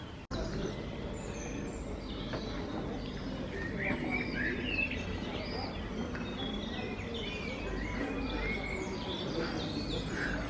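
Evening birdsong near Durbuy, Belgium, with several birds chirping and cooing steadily, moderately near, over a soft outdoor background with no clear talk.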